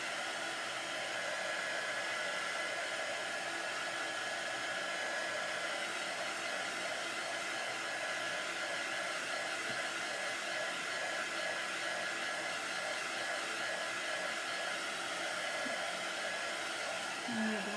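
A hair dryer or heat tool blows continuously to dry chalk paste, giving a steady, close whooshing hiss with a faint whine that runs unchanged throughout.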